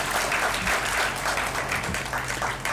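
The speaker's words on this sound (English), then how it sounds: "and a clap for her as well" A hall audience at a judicial academy gathering breaks into dense, even clapping that holds steady for a few seconds without fading, many hands together at close range.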